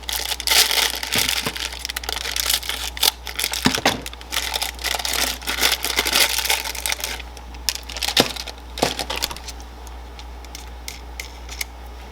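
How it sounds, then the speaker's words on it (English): A riv nut setter crimping a 3/8-16 rivet nut during bifold shed door work gives close, irregular metallic clicks, crinkles and squeezes in dense bursts, easing off toward the end. "this is a riv nut setter. Let us sacrifice a 3/8/16 and just see how this works."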